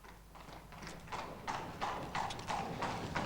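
Horse hooves clop on a hard street surface in a steady walking rhythm, growing slightly louder as the animal draws nearer, with faint background noise and no talking.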